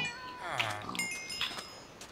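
A cat in the Minecraft game meows once, a wavering drawn-out cry, followed by a couple of fainter game sounds, with a voice faintly audible in the background.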